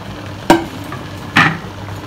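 Sayur asam vegetables get stirred in a pot, giving two short scraping, clattering strokes about a second apart, close and fairly loud against a quiet background.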